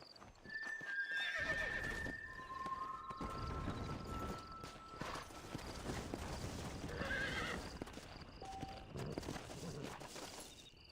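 In the Red Dead Redemption video game, a horse gives a long, shrill whinny over a busy bed of hoofbeats and clip-clop, with further neighs following, close and continuous.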